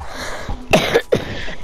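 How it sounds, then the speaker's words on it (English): A person coughs a few times in quick, harsh bursts, fairly close and clear, with a short gap between the coughs and quiet background around them. "don't cover their mouth when they cough"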